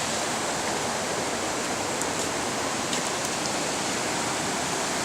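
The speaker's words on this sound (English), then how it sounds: "It's got a nice little waterfall and a bridge." Small waterfall in a park beside a bridge near a busy street, a steady broadband rush of falling water that holds even and continuous, fairly close, with no talking.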